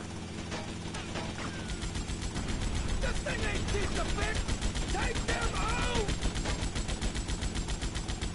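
Rapid, rattling bursts of gunfire in GTA Vice City Definitive Edition keep going steadily over a mechanical hum, with someone speaking over the shooting.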